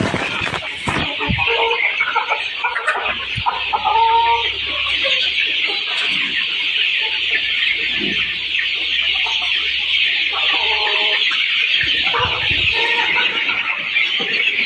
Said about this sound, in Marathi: ते आहेत आमचे अंड्यावरील पक्षी